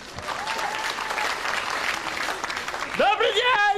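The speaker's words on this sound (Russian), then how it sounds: "Ваши аплодисменты" An audience breaks into dense clapping at a comedy stage performance, loud and sustained for a few seconds, with a voice starting to speak near the end.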